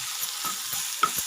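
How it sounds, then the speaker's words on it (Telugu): Gongura chutney ingredients frying in a pan for a village-style recipe, with a continuous soft sizzle and occasional stirring scrapes and small pops, close and steady, with no one talking. "చూడండి, బాగా వేగింది కదా"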